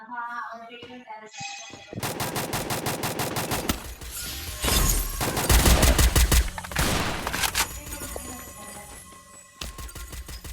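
A power gun in a multiplayer shooting game fires rapid automatic bursts, with more shots and impacts following in a dense, loud stretch, while a player talks over the gunfire.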